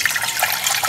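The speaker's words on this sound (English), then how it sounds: "I always use Brita filtered water or any filtered water. So 1 liter goes in the pan," About a liter of Brita-filtered water pours into a pan, a brief, close splashing and trickling at a steady level.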